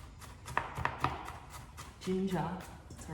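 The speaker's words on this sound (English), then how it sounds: "I'm just going to chop the rest of this" Knife chopping garlic on a cutting board for potsticker dumpling filling: a few quick, sharp taps spaced irregularly, fairly quiet, with someone speaking briefly partway through.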